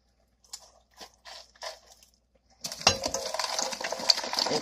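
Frozen cut-up rutabaga chunks tumble into a pot with tender ham hocks, a sudden dense clatter and crunch of icy pieces after a few quieter knocks, loud and close.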